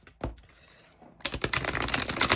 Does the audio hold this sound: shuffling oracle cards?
yes